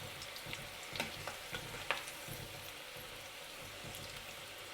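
Onion bhajis made with gram flour batter fry in oil, giving a steady bubbling sizzle with scattered crackles and a few louder pops as pieces get turned, moderately quiet and with no voices.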